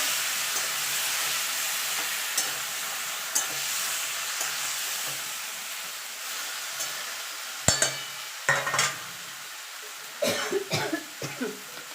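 Cooked spinach gets stirred into a pan of sizzling vegetables, with a low frying hiss under it. Sharp scrapes and knocks of the spoon cluster near the end, and a cough sounds alongside.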